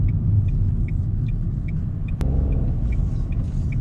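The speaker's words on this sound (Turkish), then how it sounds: "Bak şeyin motorun o 3 silindirli hırıltısını duyabiliyorsunuz değil mi?" From inside a Dacia Sandero 1.0 turbo with a three-cylinder engine and X-Tronic transmission, a low, continuous engine growl rumbles steadily while driving, with faint ticking above it and no talk.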